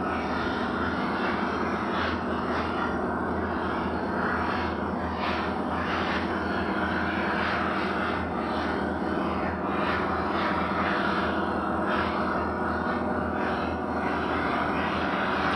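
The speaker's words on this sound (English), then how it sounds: "Look how nice this boat runs this water now." Motor boat running across open water near a rocky shoreline, a steady, loud engine drone with wind and hull noise, continuous for the whole stretch with no talk.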